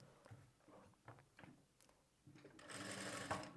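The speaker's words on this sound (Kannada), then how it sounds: "ಈಗ ನಾವು ಇದನ್ನು ಲೈಟಾಗಿ ಎಕ್ಸ್ಪೆಂಡ್ ಮಾಡ್ತಾ ಸ್ಟಿಚ್ ಮಾಡಬೇಕು" A sewing machine stitches a blouse sleeve, its needle chattering in short irregular runs and then a longer steady whir, close but quiet.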